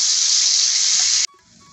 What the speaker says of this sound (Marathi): अर्धा मिनिट फुल गॅसवर आपण हा माशाचा तुकडा तळून घ्यायचा आहे ना